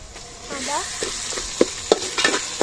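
Ginger and garlic paste frying with cardamom, cinnamon and cloves while duck meat is cooked, a steady sizzle with a few sharp clinks of a spoon against the pan.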